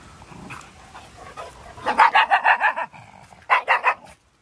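A dog on a grey morning walk gives a low rumble, then a rapid run of sharp, close barks, a short pause and a few more barks before falling quiet.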